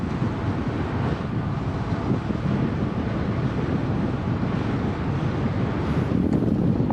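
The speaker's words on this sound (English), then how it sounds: "You can hear the wind." Steady, loud wind rushing over the microphone of a cyclist riding above 20 miles per hour behind another rider, a continuous low roar with no breaks.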